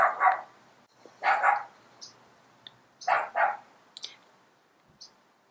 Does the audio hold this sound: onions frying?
no